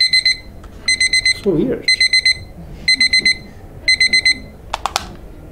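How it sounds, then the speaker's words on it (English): An alarm clock going off in a classroom, sounding in five regular bursts of rapid high beeping, with a voice and some brief shuffling between the bursts. "Somebody put the alarm?"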